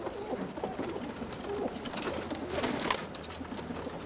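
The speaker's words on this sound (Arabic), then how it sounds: "هنا حمام بالجملة" Soft, low cooing from many pigeons in a pigeon loft in Alexandria, Egypt, murmuring continuously at moderate distance over a faint background hum.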